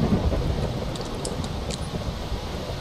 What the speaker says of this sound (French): par contre, on a la pluie, quoi.